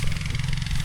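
A motorcycle engine running close by at a rice harvest field, a loud, steady low throb with a rough idle rumble and no voices over it.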